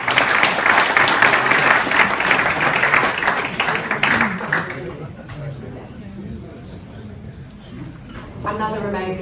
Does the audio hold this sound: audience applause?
yes